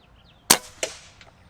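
A bullpup air rifle fires an 18-grain pellet in one sharp crack, followed by a softer thud about a third of a second later and a faint tick after that, outdoors with no talking.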